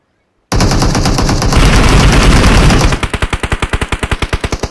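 AKM rifle fire in the PUBG Mobile video game: after a brief silence, a dense, loud burst of sustained automatic fire gives way to about fifteen sharply separated shots in a fast, steady rhythm, close and alone.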